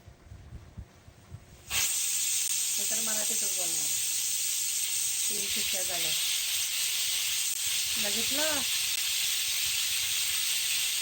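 A pressure cooker whistle blasts on its fourth release, a sudden loud hissing rush of steam that starts abruptly and holds steadily, with a person's voice speaking intermittently underneath.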